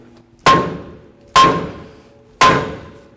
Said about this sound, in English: I'm just going to bonk the rotor.